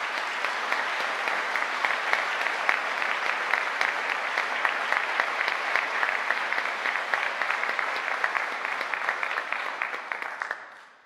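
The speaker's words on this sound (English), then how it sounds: "why don't you give yourselves a big round of applause?" Graduating English students at a Liverpool University graduation ceremony give themselves a big round of applause, dense steady clapping filling the hall for about ten seconds before fading out.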